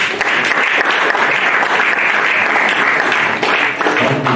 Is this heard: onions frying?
no